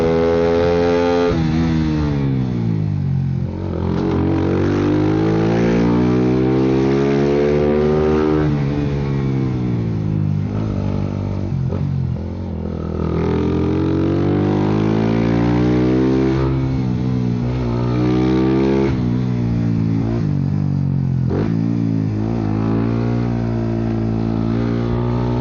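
150cc motorcycle ridden on a test ride, its engine close and loud, revving up and down in repeated rising and falling sweeps under constant wind noise.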